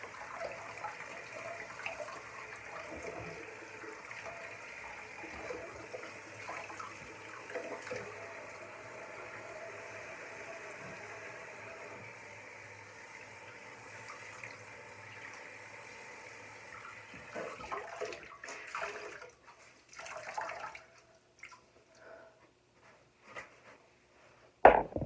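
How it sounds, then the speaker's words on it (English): Steady running tap water in a bathroom while soap is rinsed off a face, a continuous close wash with splashing and small knocks toward the end as the flow breaks up. "Now I got all the soap rinsed off."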